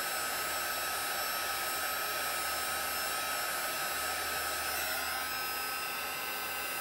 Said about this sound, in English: You want to always make sure your gun is hot before you blow it. Let it blow on the embossing powder.